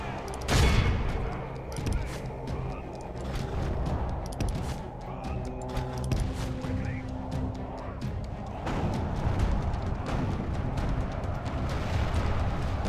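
Artillery bombardment in the Medieval 2 video game, with rapid, overlapping cracks and booms rattling continuously beneath a steady din of battle. Faint bits of talk sit underneath.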